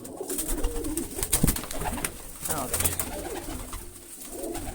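A household pigeon coos in short soft bursts near at hand, mixed with some other bird calls and faint background voices.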